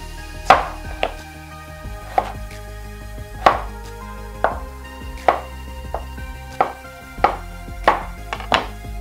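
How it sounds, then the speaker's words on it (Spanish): A knife dices carrot and potato into cubes on a cutting board in sharp, evenly spaced knocks, about one per second, close and clear. "y la estoy picando en cubito."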